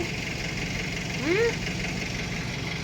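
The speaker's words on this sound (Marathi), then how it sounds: "ट्रॅक्टर चालू आहे तुम्हाला आवाज येतोय का नाही" A tractor engine idles with a steady low drone throughout, and a brief rising tonal chirp cuts in near the middle.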